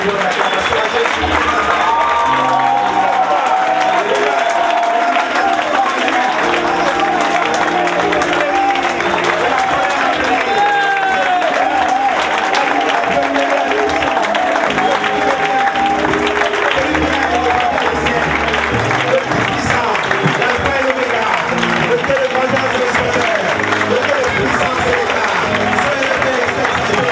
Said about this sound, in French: Donne-nous l'acclamation à Jésus.